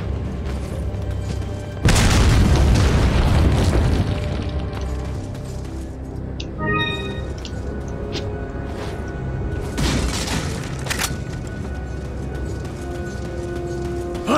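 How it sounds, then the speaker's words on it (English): A loud grenade blast in the Resident Evil 4 boss fight bursts in with a sharp boom and lingering rumble, followed by scattered impacts, clanks and a second blast amid ongoing game noise. "Throwing grenades at me, are you?"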